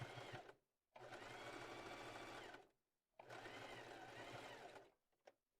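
Home sewing machine stitching a straight seam and a zigzag edge on cotton children's underwear, two loud steady whirring runs of about two seconds each, separated by short stops.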